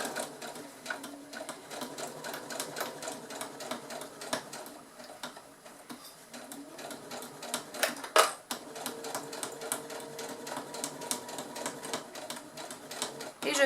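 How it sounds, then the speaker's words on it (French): A sewing machine stitching a seam on a baby sleeping bag, rapid mechanical needle ticking in quick bursts with brief pauses, fairly close and moderately quiet, with no one talking. "Et on continue la couture."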